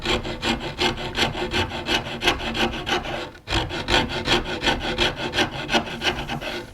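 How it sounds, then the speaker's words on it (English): A fine rasp files wood while a Tudor rose is carved, giving close, steady rhythmic rasping strokes with a short pause midway, with no talking. "One way would be to use the tip of a fine rasp like this."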